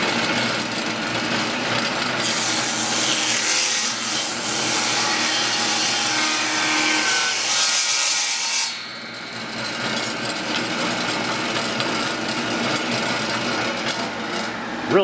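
An antique table saw cuts through wood with a continuous, loud whining buzz, the tone dipping briefly midway as the blade bites, then carrying on steadily until the cut ends.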